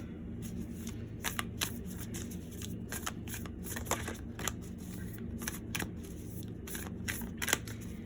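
Chakra oracle cards are shuffled nearby in repeated crisp riffles, bursts of slapping card edges at an uneven rhythm over a faint steady hum, with no one talking.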